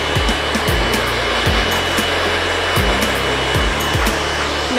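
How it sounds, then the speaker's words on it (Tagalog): A handheld blow dryer runs steadily and loud at close range in a hair salon, drying a client's freshly shampooed hair before a haircut, its broad whoosh punctuated by a few low bumps of handling. "kailangan mong tuyuin using the blow dry"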